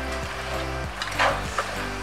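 Mutton stew cooking in a pan over a medium gas flame is stirred, giving soft, rhythmic scraping strokes over a low, continuous sizzle, close and fairly quiet.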